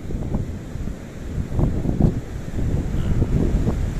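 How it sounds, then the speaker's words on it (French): Steady gusting wind at a beach near Alicante buffets the microphone, a low rumbling roar with brief swells, no voices. "Ah, il y a du vent là."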